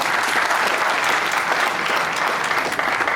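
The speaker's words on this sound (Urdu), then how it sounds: "اس کے لیے تالیاں ہونی چاہیے" An audience at a university spring festival event in Pakistan applauds a speaker, with steady, dense, loud clapping throughout.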